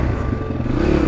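Motorcycle being kick-started, a short burst of engine clatter and low rumble that runs loud and continuous, with a rising tone near the end as it catches.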